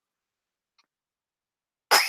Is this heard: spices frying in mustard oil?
no